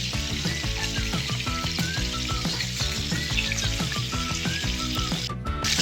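Duck breast searing in a pan, a loud continuous sizzle and spitting fat close up, steady from start to finish and heard alone.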